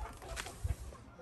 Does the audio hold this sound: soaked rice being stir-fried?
no